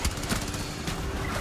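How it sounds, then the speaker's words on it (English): Rapid bursts of gunfire from the video game Rainbow Six crackle in a dense, noisy mix, with a quick volley at the start. "Don't want to run into gunfire."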